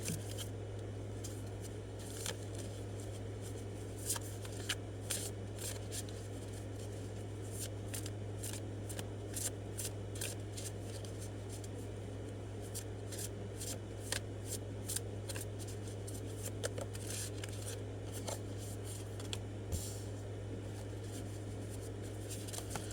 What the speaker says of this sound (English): go ahead and focus on that right now while I'm shuffling the cards